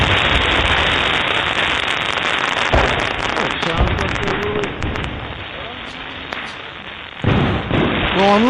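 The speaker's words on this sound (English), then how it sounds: "You can hear the fireworks, Mark." Fourth of July fireworks outside heard through an open window, a dense continuous crackle of firecrackers and pops with a few sharper bursts, with faint voices in the background.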